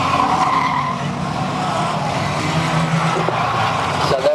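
Race cars lap Bovingdon Raceway, their engines a steady, loud roar with tyres skidding and scrubbing on the track throughout.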